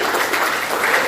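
Applause from a class at a vocational school for a student named Guntur, a steady, dense clapping that fills the whole moment with no voices on top.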